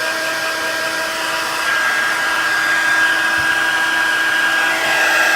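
An embossing heat tool blows steadily while heating embossing powder on a resist-embossed stamped card, giving a loud, constant whirring hiss with no break and no voices for the whole stretch.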